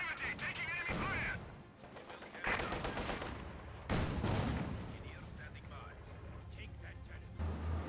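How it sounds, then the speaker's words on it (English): Battle gunfire from Company of Heroes 2 on a winter map sounds as rolling volleys and sharp bursts. Booming blasts rise and fall over a constant din of combat, and voices speak now and then under the shooting. "taking enemy fire!"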